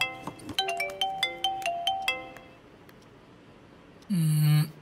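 Phone ringtone chiming as a conference call is placed: a rapid melodic sequence of bright, distinct tones for about two seconds, then a pause and a short, louder buzzy tone near the end, with no talking.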